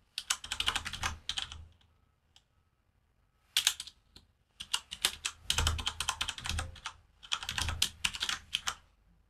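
Rapid typing on a computer keyboard while coding a web template, bursts of close, crisp key clicks separated by short pauses, including one brief stretch of near silence, with no talking.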